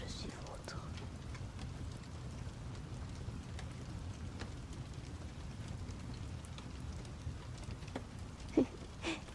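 Steady rain from a thunderstorm hisses continuously, with scattered drop taps and one louder knock near the end; no voices are heard.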